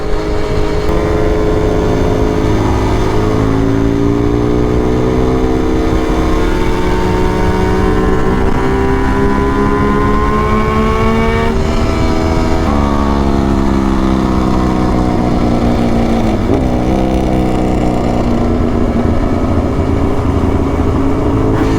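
A motorcycle engine, an RD350 cafe racer, revs hard and loud, pitch rising and falling through repeated throttle blips with a rough, steady exhaust roar throughout.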